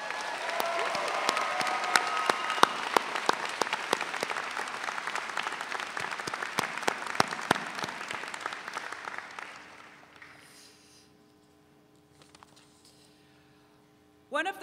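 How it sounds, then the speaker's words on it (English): Graduating students at a university business school commencement give a long, loud round of applause with crowd noise, sustained for about ten seconds before fading into near quiet, then a brief sound at the very end. "Would the graduating students please join me in a round of applause to honor these very special people?"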